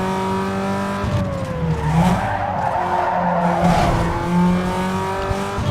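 Tires skid and squeal as a car is pulled through a handbrake slide in Need for Speed Underground 2, the screech rising over a steady engine drone and racing game engine tones, with no voices.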